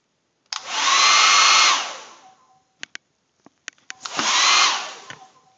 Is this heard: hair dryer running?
yes